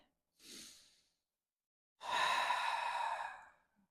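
A short soft inhale, then after a pause a long, fuller audible exhale during yoga practice, close and quiet with nothing else around it.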